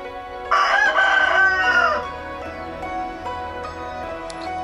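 A rooster crows loudly and close by next to a tent in Colombia, one long cock-a-doodle-doo lasting under two seconds, followed by quieter ambient sound with a faint hum.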